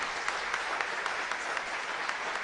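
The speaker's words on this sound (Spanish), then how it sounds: "Fuerte aplauso para ustedes" Steady applause from a congregation at a Catholic Mass, a dense even wash of many hands clapping throughout with no talk over it.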